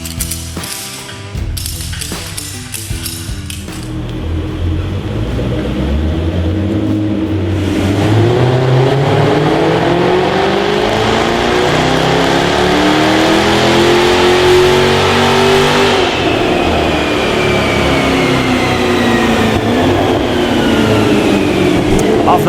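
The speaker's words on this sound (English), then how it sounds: "today on our dyno we've got this Jaguar F-Type R that's come in for the legendary 650 upgrade" A Jaguar F-Type R strapped to a dyno, its engine revving in a long, loud climb that rises steadily in pitch over many seconds, with some mechanical clatter at the start and heavy, sustained roar.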